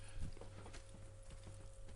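Horse hooves clip-clop quietly in Red Dead Redemption 2 as a horse walks at an even pace over a steady low background hum, with no speech.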